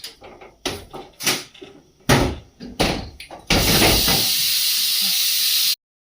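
A pressure cooker whistle in a home kitchen shrieks loud and steady for about two seconds after a run of clattering bangs, then cuts off abruptly.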